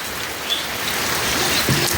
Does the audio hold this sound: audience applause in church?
no